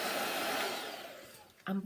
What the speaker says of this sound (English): I'm using my blow dryer to get rid of stuff.